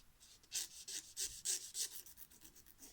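A freshly sharpened knife point scratches marks into ink on paper, giving a series of close, rhythmic rasping strokes, roughly eight in quick succession, each a short, dry scrape.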